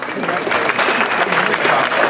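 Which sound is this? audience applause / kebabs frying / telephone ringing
audience applause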